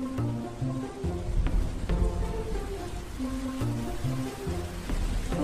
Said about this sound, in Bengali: তখনই ঝিমঝিম করে বৃষ্টি শুরু হলো।